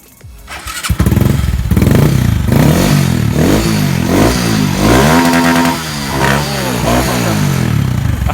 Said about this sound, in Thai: ขอฟังเสียงเครื่องหน่อยครับ